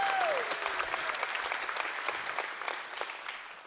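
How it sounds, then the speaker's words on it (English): Conference audience at a community-building event giving a steady round of applause, moderately loud and dense, slowly tapering toward the end. "You should give them all a round of applause, by the way,"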